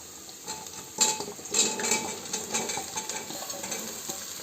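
Chopped jackfruit frying with onions in a pan, a steady close sizzle broken by scraping and clinking as a spoon stirs the pieces, with no voices.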